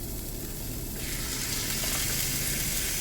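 Broccoli goes into a hot pan and a soft sizzle builds partway through, then settles into a faint steady hiss with no talk.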